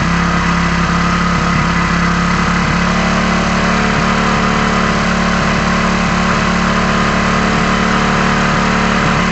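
A petrol engine runs at high RPM during a mileage and air-fuel mixture check, giving a loud, steady, sustained drone with constant vibration and no talk.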